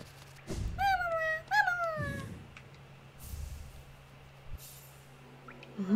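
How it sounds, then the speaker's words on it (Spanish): A kitten meows twice in Hollow Knight, giving short high rising-and-falling cries at moderate volume over a faint ambient hum, followed by quieter scattered game sounds. "Quiero oír el maullido de un gatete"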